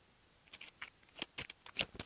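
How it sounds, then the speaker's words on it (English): Board game cards shuffled on a table during a Mech Bunny playthrough, a short burst of crisp riffling and snapping flicks close to the mic with no voices. "And I do need a shuffle"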